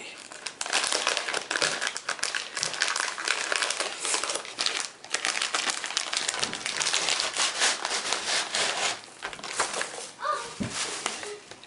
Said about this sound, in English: But I got my plaster cloth